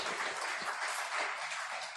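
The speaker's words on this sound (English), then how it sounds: "Ladies and gentlemen, a round of applause for Afande." Brief burst of audience applause for Afande at a political gathering, a dense, even wash of clapping from a crowd heard without speech.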